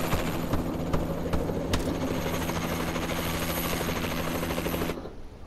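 A Warbird aircraft drones steadily through a team deathmatch video game round, a constant engine hum with faint clicks over it, cutting off abruptly near the end.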